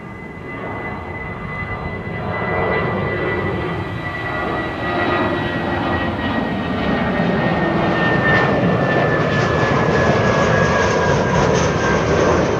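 A British Airways jet, flight 445 bound for London Heathrow, roars at Amsterdam Schiphol Airport with a steady, loud engine rumble and a thin high whine, rising slightly and holding for several seconds without any talking.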